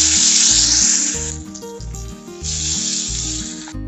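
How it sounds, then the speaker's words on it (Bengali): Pabda fish dropped into hot oil in a well-heated wok gives a loud hissing sizzle that fades and then surges again, under steady low background music. "মাছটা ছেড়ে দেবো।"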